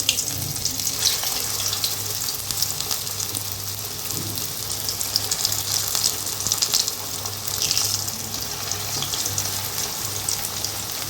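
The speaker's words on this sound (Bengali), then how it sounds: "এবার আমি কড়াইয়ে তেল গরম করে নিয়েছি, যেখানে আমি একে একে সামোসাগুলোকে ফ্রাই করবার" Bread samosas sizzle in hot oil in a wok, a loud, steady, bubbling hiss that runs without a break and with no voices over it.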